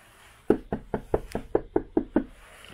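Eight firm knocks on a front door at night, evenly spaced and close, with no other sound around them.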